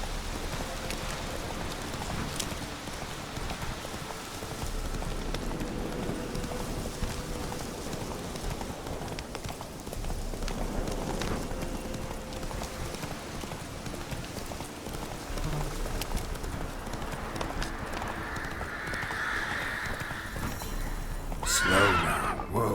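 Roach the horse in The Witcher 3, hooves clopping at a moderate pace under rain and ambient game sound, then a short neigh near the end, close and clear, no talking.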